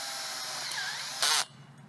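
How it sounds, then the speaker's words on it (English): A power drill drives a self-drilling screw into a metal greenhouse frame, a steady close whine with a sharper, louder burst near the end before it drops away. "how to install these self-drilling screws"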